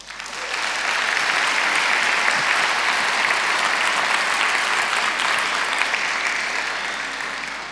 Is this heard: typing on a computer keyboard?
no